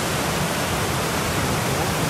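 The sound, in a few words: creek water flowing near a bridge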